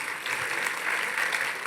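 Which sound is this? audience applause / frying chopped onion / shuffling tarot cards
audience applause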